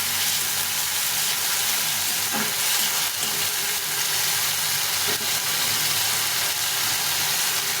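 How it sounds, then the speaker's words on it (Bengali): A ginger, cumin and chili paste fries with onions in a pan, giving a loud, constant hiss and sizzle, close up, with a couple of faint stirring clinks and no talking. "এখন এর মধ্যে এই আদা জিরা লঙ্কা পেস্ট করে নিয়েছি, এটা দিয়ে দেবো। দিয়ে এটাকে ভালো করে একটু কষিয়ে নেব।"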